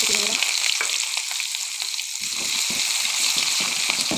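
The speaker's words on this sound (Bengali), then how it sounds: "পেঁয়াজটা একটু ভাজা করে" Onions fry in hot oil with bay leaves, dried red chilies and cumin for a chicken curry, giving a loud, continuous sizzle up close. Stirring scrapes and bursts of crackle come and go through it.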